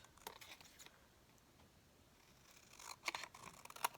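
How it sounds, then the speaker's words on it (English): Scissors trim excess paper off a handmade card, giving a few quiet, crisp snips near the end after a softer one at the start, close and faint. "I'm going to take my scissors and just trim the extra"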